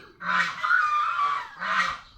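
Two loud, nasal honking quacks from ducks close by, one drawn out and one short, with quiet background noise between them.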